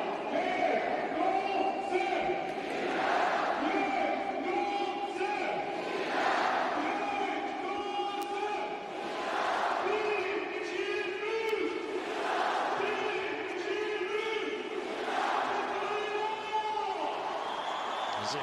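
A 6,000-capacity arena crowd at a men's Volleyball Nations League match between Iran and Poland roars, chants and cheers continuously, a dense wall of rhythmic chanting surging in repeated waves throughout.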